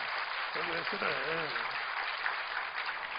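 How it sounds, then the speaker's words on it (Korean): Congregation applause during a church sermon: a steady, loud wash of clapping throughout, with a voice briefly heard over it early on. "박수예요, 박수예요, 박수예요, 박수예요."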